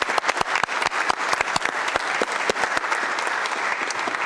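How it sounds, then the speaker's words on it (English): A city council meeting audience breaks into applause: sharp, distinct claps from a modest group, loud at first and thinning into a lighter patter, with no talk over it. "Let's give them all a big round of applause."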